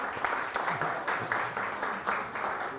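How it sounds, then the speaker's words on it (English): An audience at the 2012 Medina County Auditor Seal Awards ceremony applauds high school honorees with steady, moderately loud clapping that swells in regular waves throughout. "you can applaud for them"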